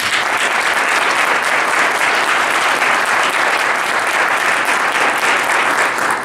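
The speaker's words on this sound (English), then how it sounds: "can you please give a round of applause to these folks who've come" An audience at a panel discussion applauds the panelists, a loud, dense and steady wash of clapping that holds evenly with no voices breaking through.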